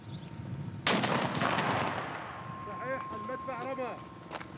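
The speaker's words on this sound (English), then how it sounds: "A federal police mortar pit sends a 6-kilo shell into Mosul's old city" A federal police mortar in Mosul fires a 6-kilo shell: one loud, sharp blast with a rolling boom that fades into the surroundings, and voices talk afterward.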